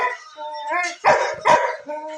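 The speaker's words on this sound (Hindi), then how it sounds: "क्यों भौंक रहा है" A dog barks twice in quick succession, loud and close, with a person talking before and after the barks.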